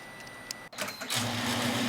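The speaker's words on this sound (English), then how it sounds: "While the cutting machine is doing its job, the pre-feed takes up the slack." A spark plug wire cutting machine working alongside a wire pre-feed, with a short whir, a sharp click, then a steady mechanical hum and whine close by.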